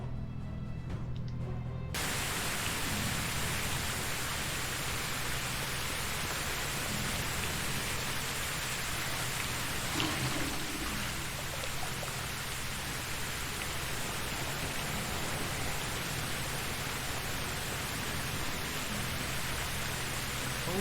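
Steady rain hisses in the medieval survival game Medieval Dynasty, a dense, even wash of falling drops that continues without break after a brief quieter opening.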